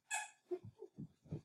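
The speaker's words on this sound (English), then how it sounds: "That's my dog playing." A dog at play gives a high whine followed by a quick series of short huffing grunts and snorts, faint and close by.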